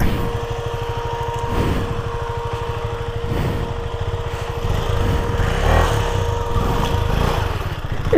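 A motorcycle rides along at night with a passenger on the back, its engine a steady close drone with small shifts in pitch and load, plus road and wind rumble throughout.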